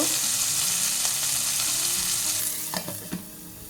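Onions sizzle and crackle steadily in a frying pan, then a few louder scraping stirs near the end as the hiss eases slightly.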